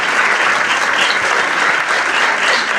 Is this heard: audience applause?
yes